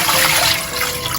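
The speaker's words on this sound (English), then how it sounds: "Pour the water off" Water being poured off from a cooking pot after a quick rinse, a steady broadband splash and trickle lasting about a second, close and fairly loud with no talk.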